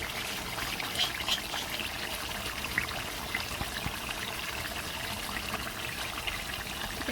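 Spices pour steadily into a homemade chilli pickle, making a continuous granular trickling and pattering close by for several seconds, with no voices.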